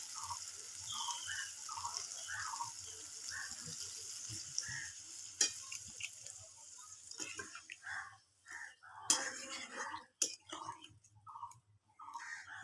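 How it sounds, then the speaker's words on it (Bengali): Water poured into cooked-down spice paste in a pan for a jackfruit curry, bursts of hissing sizzle and splashing with some stirring, close and fairly faint, with a voice talking intermittently through it. "এরপর এর মধ্যে আমি জল ঢেলে দেবো।"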